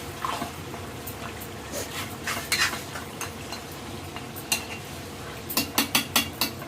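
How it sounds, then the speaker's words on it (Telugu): Washed beef is added to a cooking pot and stirred. Scattered clinks and scrapes of a utensil against the pot pick up into a quick run of sharp knocks toward the end, over a faint background hiss. "ఈ బీఫ్ అనేది ఇందులో అయితే వేసేస్తాను"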